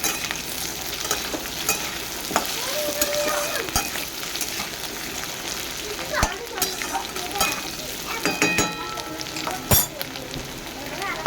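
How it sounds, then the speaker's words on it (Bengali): Potatoes fried until reddish in a pan with black cumin seeds scattered on top, a continuous close sizzle broken by scraping stirs and clinks, with a voice speaking over it at times. "আলুটা লাল লাল করে ভাজা হয়ে গেছে আমি ওপর থেকে কালো জিরে দিয়ে দেবো"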